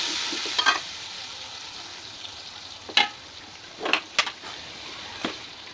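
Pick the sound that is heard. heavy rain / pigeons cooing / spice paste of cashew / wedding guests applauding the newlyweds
spice paste of cashew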